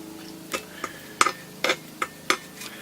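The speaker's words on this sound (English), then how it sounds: "Mix those cherries in there," Cherries get folded into pink red velvet cake batter in an RV kitchen, a series of soft wet spoon knocks and scrapes, about seven separate strokes, close and quiet.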